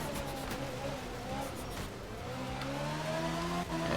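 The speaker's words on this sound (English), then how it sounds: "Just living life on the second gear limiter right now." A rally car in Art of Rally holds its engine against the second-gear rev limiter, a droning, buzzing note that stutters and bounces, then climbs again, fairly quiet and steady throughout.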